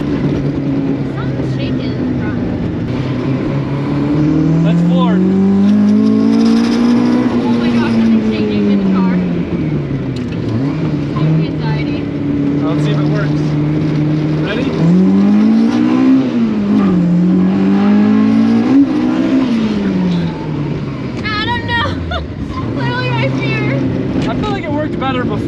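A Honda-powered drift car engine revs hard at full throttle, its pitch sweeping up and down through repeated loud rises and falls over about 25 seconds, with people talking over it.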